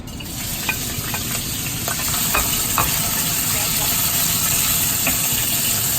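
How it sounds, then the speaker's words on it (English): Minced pork hits hot oil in a pan for a pork omelette, giving a loud, continuous close-up sizzle with occasional crackles and spatula stirs, a faint hum underneath. "When the oil get hot, we put the meat inside."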